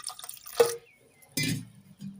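Water poured into mashed tomatoes for tomato rasam: a short splash and trickle into the pot, followed by a second brief pour, close and fairly quiet.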